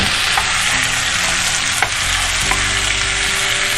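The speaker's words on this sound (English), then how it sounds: "I'm gonna throw in the tomatoes and the meat at the same time. And what we're gonna do is pretty much just brown this meat." Venison and tomatoes sizzle steadily in hot oil as the meat browns for a deer stew, a loud continuous frying hiss with a few faint clinks and stirring touches, no voices.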